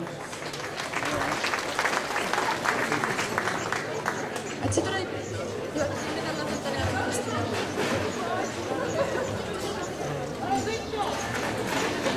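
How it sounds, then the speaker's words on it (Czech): Audience applause for a contestant at a Czech festival show, a steady dense clapping crowd sustained throughout at even loudness, with some scattered voices mixed in. "Prosím potlesk pro Anu Pohorelcovou."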